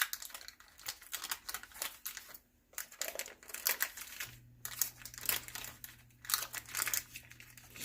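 Paper liner crinkles and tears as it is peeled off a warm, moist carrot cake muffin, a series of close, soft rustling crackles in uneven bursts with brief pauses.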